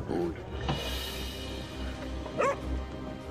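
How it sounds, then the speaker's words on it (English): A cartoonish dog barks in the video game Overcooked 2, two short yappy voiced barks over game music, with a person talking nearby. "I really couldn't tell the dog did that"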